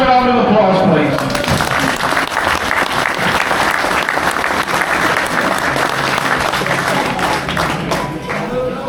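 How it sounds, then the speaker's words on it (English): A rural English countryside crowd gives a round of applause to prize winners, dense sustained clapping at close range lasting the whole stretch and tapering slightly toward the end. "Put a round of applause, please."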